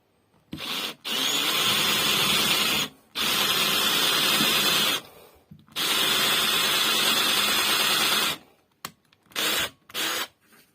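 A power drill bores holes in recycled material for a small homemade game, running in several close, loud bursts of a few seconds each with pauses between, ending in short quick pulses.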